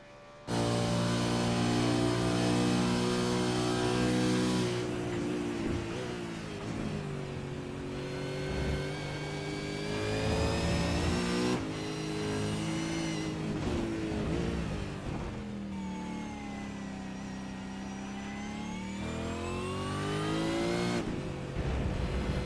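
Touring car racing round the Algarve circuit in a Supercars racing simulation, its engine revving hard and climbing through gears with repeated upshifts and lifts, loud and close throughout with no talk.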